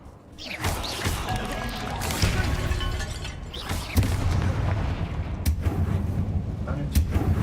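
Confringo blasting-spell explosions in Hogwarts Legacy burst out as repeated booms and crashes over a dense rumbling game background, with a player talking now and then.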